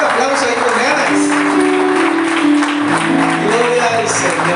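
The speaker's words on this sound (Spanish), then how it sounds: "Un aplauso ahí con ganas." A church congregation claps and cheers in a dense, steady wash of sound, with voices calling out over it throughout.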